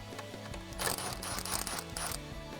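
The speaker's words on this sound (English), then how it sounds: "grab an 8 millimeter socket and an impact gun or a ratchet, and we're gonna loosen up the clamp holding the tubing to our throttle body" Ratchet with an 8 mm socket working the clamp on the intake tubing at the throttle body of a 2005-2009 Mustang GT, giving rapid repeated clicking with metallic ticks over a steady background.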